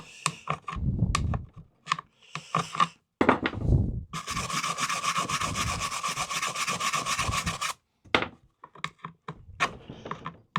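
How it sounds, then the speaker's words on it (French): Wire brush scrubbing dirt off a Navimow i210 Lidar Pro AWD robot lawn mower: short rasping strokes, then one long steady scrubbing run of several seconds, then more brief scrapes, close and fairly loud. "un coup de brosse métallique"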